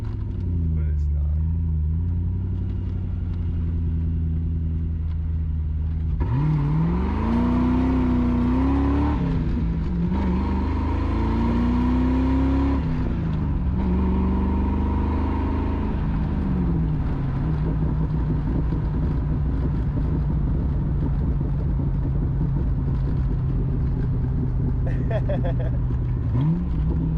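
A 1996 Ford Mustang GT V8 with an auto-to-manual transmission swap runs close by, a low steady rumble that rises in pitch with revs around the middle and settles back to a lumpy idle throughout.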